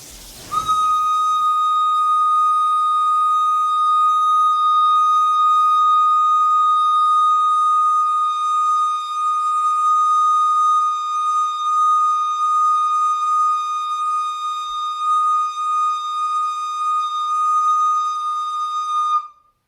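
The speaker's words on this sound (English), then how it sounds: "Draw a deep breath in again and blow gently into the recorder." A recorder holds a single steady whistle-like tone for a long time, clear and pure, keeping even pitch and volume until it stops abruptly.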